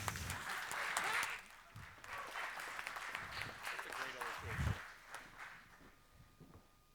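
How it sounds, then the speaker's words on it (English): Audience applause for volunteers at a tech conference talk, a diffuse crowd clapping that swells and then thins out, with voices and some movement in the room. "Round of applause for our volunteers"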